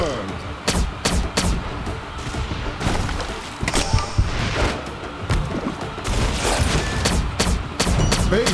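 Gunfire rattles and booms throughout a video game battle as a base comes under attack, with sharp repeated shots and thuds over a dense, loud soundscape and some voices mixed in.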